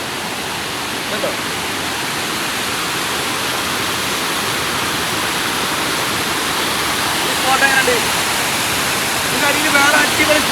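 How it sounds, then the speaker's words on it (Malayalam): A waterfall along the edge of a rural property, a loud continuous roaring rush of falling water, close and steady, with faint brief sounds near the end. "നമ്മളെ പറമ്പിന്റെ അതിർത്തി പങ്കിടുന്ന വെള്ളച്ചാട്ടാ"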